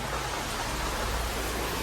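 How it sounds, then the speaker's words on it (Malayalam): Heavy rain pours outside, a dense continuous hiss that holds steady throughout at a soft, distant level, with no voices. "പുറത്ത് നല്ല ഗംഭീര മഴയാണ്"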